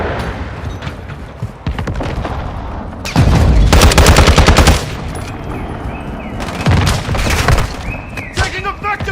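Gunfire in Call of Duty Warzone 2: bursts of rapid automatic shots, some close and loud, separated by pauses, with a voice briefly shouting amid the shooting.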